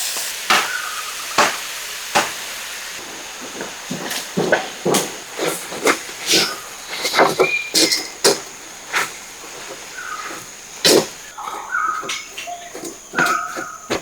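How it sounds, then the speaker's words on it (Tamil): Egg, onion and tomato frying and being stirred in a pan, with a steady sizzling hiss under repeated sharp scraping and clinking strokes of a spatula at an irregular rhythm, close and clear with no talk. "இப்படி நல்லா பிரட்டிட்டே இருங்க."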